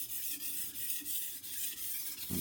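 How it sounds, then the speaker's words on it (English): A kitchen knife is drawn by hand across a sharpening stone in a steady series of short, rasping strokes about a third of a second apart. The scraping is close and alone, with no talking. "I'm applying pressure as I pull the knife towards me and releasing as I let it go."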